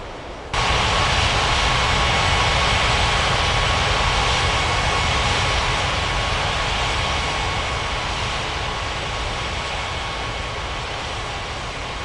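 Airliner jet engines during pushback and taxi, a steady loud whining roar that holds for the whole stretch and eases only slightly toward the end, with no talking.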